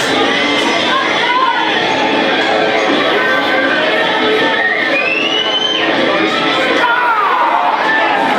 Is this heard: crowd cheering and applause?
yes